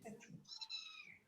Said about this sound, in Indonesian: Kucing siapa itu?